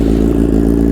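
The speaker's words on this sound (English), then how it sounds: "Let's give it a nice cold start here with this beautiful full Akrapovic exhaust." Motorcycle with a full Akrapovic exhaust idling after a cold start, a loud, close, deep and steady rumble with a fast pulsing beat, heard alone without talk.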